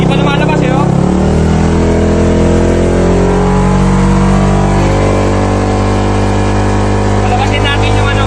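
A car engine running without coolant is revved hard with the throttle, rising into a loud, sustained, close roar that holds high, with someone talking over it.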